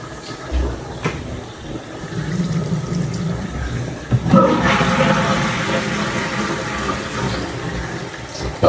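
Water runs from a tap in a Park Slope condo bathroom. A soft hiss swells into a louder, steady rushing stream about halfway through and keeps flowing to the end.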